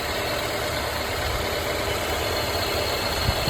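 Rebuilt Honda engine with a previously blown head gasket and hose, idling steadily without exhaust bolts or covers fitted, a continuous even hum with a faint regular tick, close and unchanging throughout.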